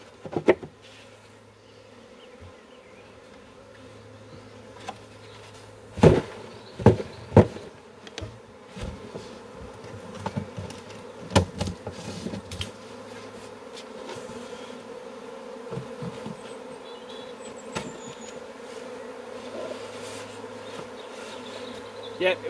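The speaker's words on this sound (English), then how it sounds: "Bump the rest of the bees in." A steady, low droning hum of a honeybee swarm fills the clip, with occasional sharper thumps and knocks as bees are bumped into a hive box, and a faint voice now and then.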